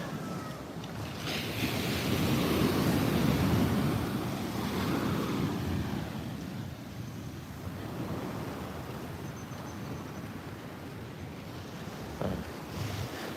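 Ocean waves surge onto an eroding beach at Muaro Bantiang, Tarusan, in Pesisir Selatan, a broad, continuous rushing wash with heavy wind buffeting the microphone, loudest early on and then settling into a steady roar.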